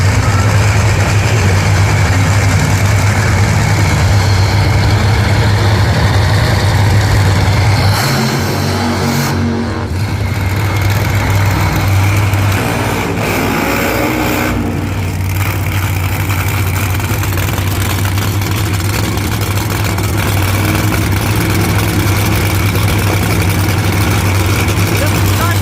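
Top Fuel Funny Car engines idle loudly and continuously at a drag strip, a deep heavy rumble with brief dips, while a crowd and announcer sound faintly underneath.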